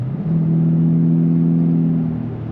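A Lexus GS-F or RC-F V8 engine with an RR Racing crank pulley kit revs up close in Sport Plus mode, its tone climbing in a loud, smooth surge, then easing off slightly at the end.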